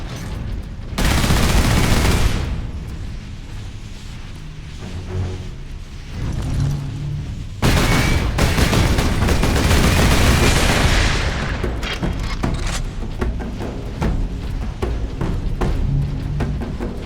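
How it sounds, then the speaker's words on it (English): Sentry guns in the Space Marine video game firing in two long, loud sustained bursts, each opening abruptly and rolling on with dense automatic fire and heavy booming impacts, the second trailing into scattered shots. "Sentry guns ahead."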